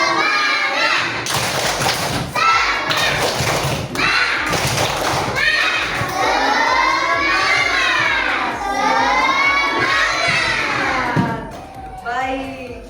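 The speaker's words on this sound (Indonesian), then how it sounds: "sebelum itu kita tepuk semangat dulu. Tepuk semangat." Schoolchildren in a classroom perform a rhythmic spirit clapping chant, with loud bursts of unison claps alternating with their sung chanted voices, close and energetic throughout.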